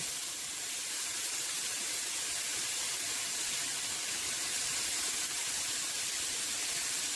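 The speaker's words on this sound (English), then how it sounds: "I love the frying sound of bacon." Bacon fries on a hot griddle, giving off a steady, even sizzle and hiss that runs unbroken and fairly quiet, with no voices over it.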